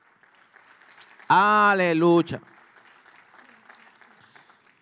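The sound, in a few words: congregation applauding in church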